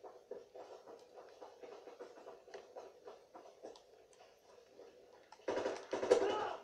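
MG15 machine gun from Call of Duty WWII multiplayer fires in rapid bursts. The shots are fairly faint at first, then a loud, dense burst of fire arrives near the end.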